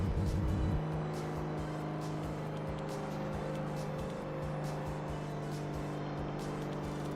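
Lotus GT1 race car engine in the Hot Wheels World Race video game, a loud steady high-revving drone with sustained harmonic whine and a brief rev fluctuation at the start.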